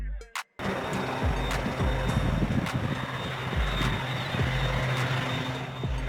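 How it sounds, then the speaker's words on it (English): Steady, loud drone of an agricultural crop-duster aircraft flying, a continuous engine roar with a few sharp interruptions near the start. "Agricultural aircraft."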